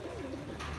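Pigeons kept on a rooftop give a short, close, low throaty coo with a rolling pitch, heard alone against faint ambient noise.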